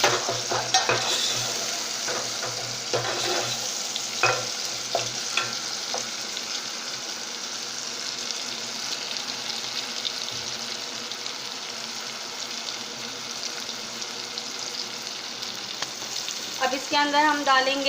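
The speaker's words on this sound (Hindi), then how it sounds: "इसको हम लाइट तेल छोड़ने तक हम इनको भूनते रहेंगे।" Tomatoes and spices sizzle and fry in oil in a pan while being stirred, a steady loud hiss with scraping strokes throughout, and a voice speaks briefly near the start.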